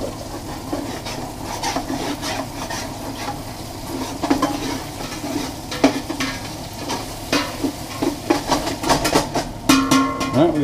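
Beef stew meat scraped and stirred in a hot sizzling pot, a continuous frying hiss under repeated scraping strokes of a utensil against the pot bottom, with occasional knocks growing busier toward the end.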